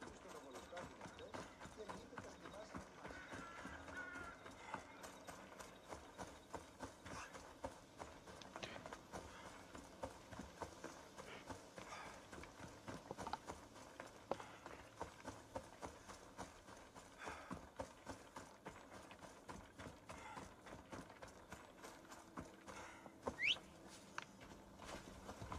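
Rapid rhythmic hoofbeats of a galloping horse in Assassin's Creed Odyssey, steady and continuous, with a faint background of ambient game sound.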